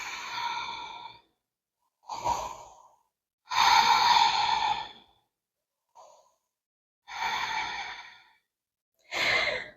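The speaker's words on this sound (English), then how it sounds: "Deep breaths." Slow deep breaths during a yoga session, six long sighing exhales spaced a couple of seconds apart, close and moderately loud, with quiet pauses between and no talking.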